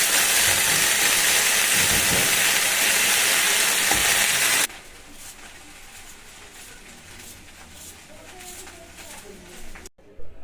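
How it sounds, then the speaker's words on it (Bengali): Steady loud sizzle of potatoes frying in a pan for several seconds, then the sizzle drops away to quieter kitchen background with faint voices. "পেঁয়াজ কলি আলু ভাজাটা হচ্ছে"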